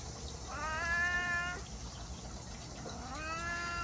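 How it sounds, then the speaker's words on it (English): Leo the cat meows twice on a backyard porch, two drawn-out, close meows separated by a short pause, over a quiet outdoor background. "Got Leo the cat in here. He's out on the porch looking for some attention."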